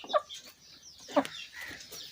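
A Turkish hen lets out a couple of short, nasal clucks spaced about a second apart, close by over faint background noise.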